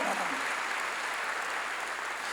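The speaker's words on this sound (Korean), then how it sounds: "위대한 박수" A church congregation applauds during a pastor's sermon, a steady, even wash of clapping that holds at a moderate level from start to finish with no voices standing out.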